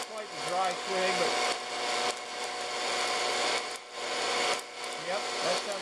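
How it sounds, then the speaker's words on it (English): Coffee beans reaching second crack in a home roaster, a dense run of small, quick crackles and rubbing rattles under the steady whir of the machine, with no clear voice over it. "that sounds like second crack right there"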